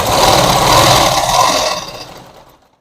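A sewing machine stitches joined fabric during a beginner tailoring lesson, a steady loud mechanical whir for about two seconds that then winds down and stops.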